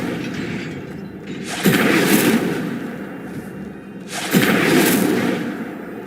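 Incendio fire spell in Hogwarts Legacy cast twice, each a sudden loud whoosh and burst of flame roaring for a couple of seconds before dying back, the two blasts spaced evenly apart.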